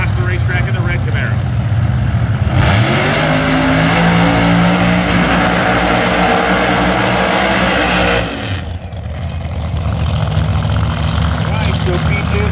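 A red Chevrolet Camaro Pro Mod drag car makes a qualifying pass at Bradenton Motorsports Park, its engine a loud, sustained roar that builds and holds for several seconds before dropping off, with a track announcer talking over it.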